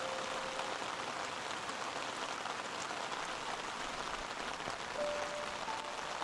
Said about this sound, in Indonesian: Hujan mulai turun.